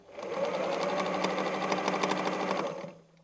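A sewing machine runs steadily for about three seconds, stitching circles in free-motion quilting with a fast, even motor whir, close and clear, before stopping.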